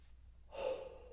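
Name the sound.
deep breath in through open mouth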